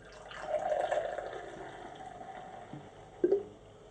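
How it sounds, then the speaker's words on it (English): Fanta soda poured from a bottle into a glass, a soft gurgling trickle near the start that fades to a quiet fizz, with a brief clink or splash toward the end. "I need to pour this in a glass so that you guys can get to see"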